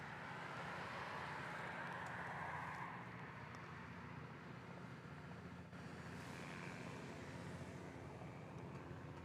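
Airliner climbing away from Honolulu airport after takeoff, a broad steady jet roar that holds loud and constant throughout, with no voices over it.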